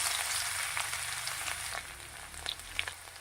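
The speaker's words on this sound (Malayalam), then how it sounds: "എണ്ണ ചൂടായി വരുമ്പം 5-6 വെളുത്തുള്ളി ചതച്ചിട്ട് കൊടുക്കാം" Crushed garlic sizzling in hot coconut oil in an iron pan, a bright continuous hiss with a few sharper pops near the end, close by and without voices.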